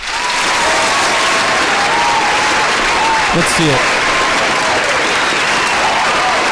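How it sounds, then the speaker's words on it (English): A studio audience on a sports talk show gives long, sustained applause, a thick continuous wash of clapping with voices talking over it. "Yeah, that's a long clap"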